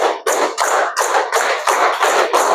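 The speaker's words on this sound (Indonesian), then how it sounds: "2 kali tepuk 5" Schoolchildren in a classroom clap out a counting game together: seven or eight sharp, loud unison claps in a steady rhythm, each a crisp burst of many hands separated by brief gaps, with no voices.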